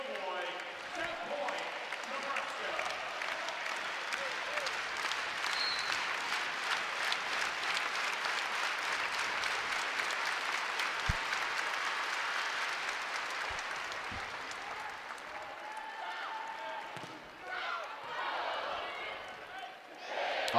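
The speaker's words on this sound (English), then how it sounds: "And the crowd at the Devaney Center on their feet." A volleyball crowd at the Devaney Center stands and applauds during Nebraska versus LIU Brooklyn in the 2023 NCAA first round. The broad, sustained roar of clapping fades near the end, with a commentator talking over it.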